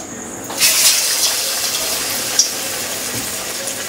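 A banana flower chop drops into hot oil, and a sudden burst of bright sizzling rises and then settles into steady, close frying hiss with no voices.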